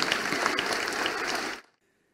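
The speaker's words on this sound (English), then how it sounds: "shall we put our hands together for a hearty round of applause for the judges once more" An audience at a state level quartet singing competition applauds the judges, a dense, steady round of clapping that stops abruptly near the end, followed by silence.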